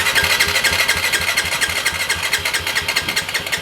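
A Yamaha YZ450F dirt bike engine fires up with the cold start pulled out, settling into a loud, rapid, pulsing idle close by with no talk.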